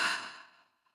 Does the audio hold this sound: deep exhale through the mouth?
yes